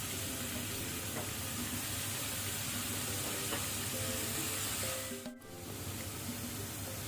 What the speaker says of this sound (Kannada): ಸೊ ಇದನ್ನೀಗ ಸ್ವಲ್ಪ ನಾವು ಲೋ ಫ್ಲೇಮಲ್ಲಿ ಫ್ರೈ ಮಾಡ್ಕೊಳ್ಳೋಣ